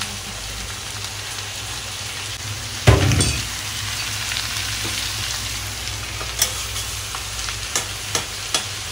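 Onions frying in a hot wok sizzle steadily, with a louder burst of spitting and stirring near the start as they go in, followed by a continuous crackle and a few light clinks of a utensil.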